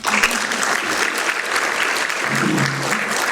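An audience at a science short-film screening evening claps for the control-room crew, a dense, continuous round of applause from many hands, close and loud throughout.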